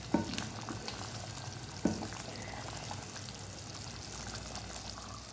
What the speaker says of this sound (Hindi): आपने इसको भूनते जाना है।